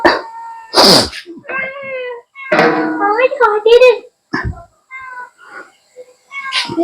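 A cat meows several times up close, the cries mixed with a voice talking nearby and a short sneeze-like burst.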